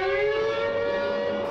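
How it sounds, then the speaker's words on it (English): A steady, wailing air raid siren from the Earth vs. the Flying Saucers film trailer drones loudly and continuously, its pitch holding nearly level with rich overtones, no voices. "the sirens are on and the alert is sounded"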